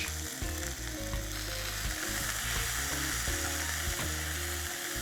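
Steady, crackling sizzle of green peas, fennel seeds, asafoetida and red chilli frying in a hot pan, close and continuous, with occasional stirring scrapes and clinks.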